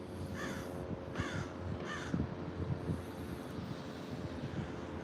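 Crows caw in three distinct harsh calls spaced about a second apart, moderately near, over a low steady background of wind rumble.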